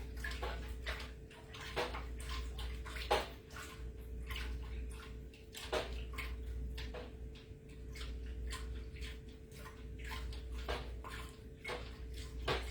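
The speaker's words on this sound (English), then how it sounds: "So I'm just mixing this up. I want to get as much as the honey." A stick stirs a watery honey mixture for mead in a container, producing a continuous soft sloshing with repeated faint knocks and taps against the sides, quiet and close under a steady low hum.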